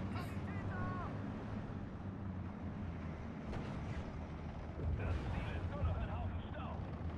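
Artillery shots in the WWII strategy game Steel Division 2 land as a few dull, distant booms within a constant low rumble and windy noise.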